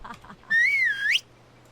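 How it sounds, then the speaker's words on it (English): A single clear, sustained whistle in World of Warcraft: Battle for Azeroth, a rising and falling tone lasting under a second after brief soft sounds. "Now, if I whistle..."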